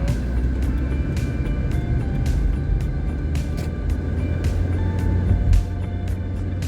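A car drives along a hilly road in Clermont, Florida, giving a steady low engine and road rumble with wind noise that holds throughout, with brief sharp clicks scattered over it.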